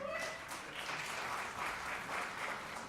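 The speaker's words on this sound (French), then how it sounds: "vous pouvez l'applaudir" Audience applause for a gendarmerie commander at a mayor's New Year address, steady dense clapping throughout, moderately distant with faint voices underneath.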